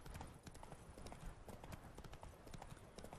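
Horse hooves clip-clopping steadily while riding in The Witcher 3: Blood and Wine, a continuous rhythmic trot with faint game ambience underneath.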